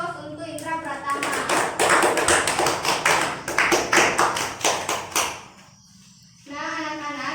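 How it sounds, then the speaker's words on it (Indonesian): A classroom of children applauds a student with a burst of brisk, fairly loud clapping lasting several seconds, then it fades; a teacher's voice speaks before and after. "Beri aplaus untuk Indra Pratama."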